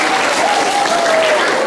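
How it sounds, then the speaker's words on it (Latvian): Dense, loud applause from a crowd cheering a school aerobics team for 5th and 6th graders, sustained clapping throughout with a faint whistle or voice on top. "Kur ir aplausi?"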